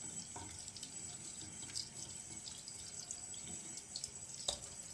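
Tap water runs steadily into a sink while a shaving brush loaded with Taylor of Old Bond Street sandalwood lather is rinsed out, close and continuous with small splashes and drips.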